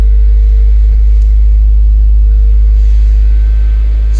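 A 2019 Subaru WRX with an automatic transmission idles after starting, giving a steady, loud, close low-pitched engine rumble that holds evenly throughout with no talking.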